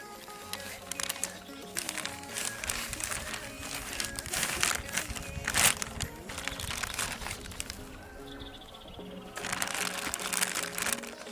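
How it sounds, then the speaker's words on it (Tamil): A plastic cover crinkles as it is folded around a speaker that is about to be buried underground. Close, irregular crackling rustles run in bursts throughout, with a faint voice in the background. "ஸோ இந்த மாதிரி நம்ம கவரே நல்லா இந்த மாதிரி மடிச்சு விட்டுக்கலாம்."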